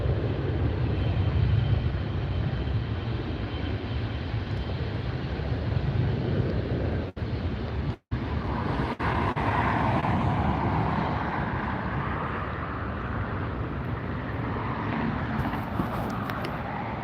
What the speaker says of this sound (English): Listen to that noise, and look at the size of these engines.